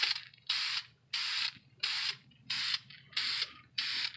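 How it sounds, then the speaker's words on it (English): Dupli vinyl and fabric coating spray paint hisses out as a fine mist in six even bursts, each about half a second long with short gaps between. The sound is close and clear, with no talking. "to gradually spray over the whole piece from a distance of about 14-15 inches"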